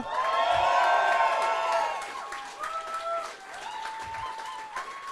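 An audience at a World of Warcraft community event in London cheers and applauds with whoops and raised voices, loud at first and then easing into a lighter, continuing crowd noise.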